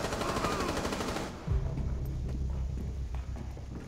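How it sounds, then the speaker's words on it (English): Pistol shots ring out during a Rainbow Six Siege team deathmatch on the Bank map, a burst of rapid gunfire for the first second and a half, followed by lower rumbling game noise. "He's the guy shooting the pistol."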